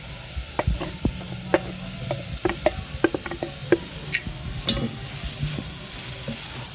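Tomatoes, carrots and green pepper cooking in a pan for a Ugandan katogo meal, stirred with repeated sharp scraping clicks over a steady low sizzle, close and moderately loud, no talking.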